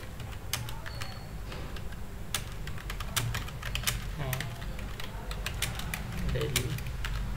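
Typing on a computer keyboard during Urdu text composing in InPage 2009, a steady stream of close, crisp key clicks in irregular rhythm over a constant background hum, with no talk.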